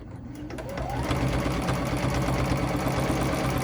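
Close, steady motor whir of a sewing machine doing free motion quilting on a mini stacks quilt, the needle's rapid chatter running continuously after a quick start.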